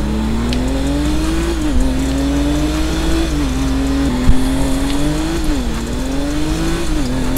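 Mazda RX-7 in GTA V FiveM revving in repeated climbing pulls with brief dips between, a loud continuous engine drone throughout, close and alone without voices.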